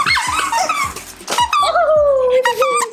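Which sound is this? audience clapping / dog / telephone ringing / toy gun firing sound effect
dog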